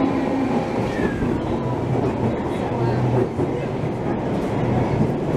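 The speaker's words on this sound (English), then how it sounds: "Here comes our Bakerloo line train." A London Underground Bakerloo line train arrives at the platform, a loud continuous rumble of wheels and motor with faint squeals, filling the station; a voice murmurs faintly underneath.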